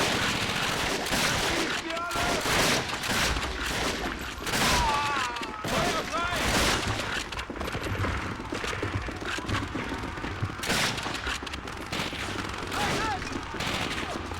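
Rapid video-game gunfire from Call of Duty: Finest Hour, dense bursts of rifle and machine-gun shots with occasional booms, steady and loud throughout, with a voice talking over the action.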